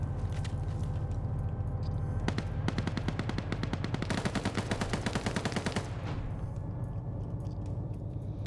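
Gunfire in a multiplayer war video game: scattered single shots, then a long rapid burst of automatic fire, close and sharp over a steady background rumble.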